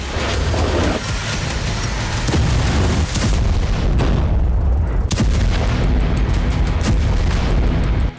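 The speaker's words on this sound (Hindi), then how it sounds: "गोलियों की तड़तड़ाहट और इजरायली सैनिकों का एक्शन।" Loud, dense gunfire and heavy booms roll continuously during an Israeli military operation in Jenin in the West Bank, with rattling shots and thuds blending into a constant roar throughout, and no speech.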